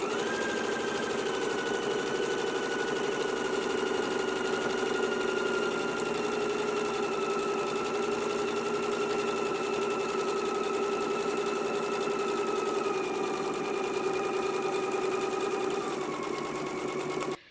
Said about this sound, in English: You're going to stitch really close to the folded pressed edge.